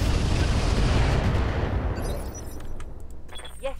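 Mech weapons firing in Roguetech BattleTech: a loud, sustained barrage of booming shots that fades after about two seconds into scattered clanks and crackles, with a faint voice at the end.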